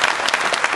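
Brief burst of audience applause at a spiritual talk in a Bhubaneswar auditorium, dense steady clapping from a crowd heard close and loud throughout.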